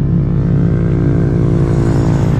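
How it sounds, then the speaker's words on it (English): Motorcycles roll past close by with a loud, steady engine drone that holds for the whole stretch; no one speaks. "let me let these motorcycles pass"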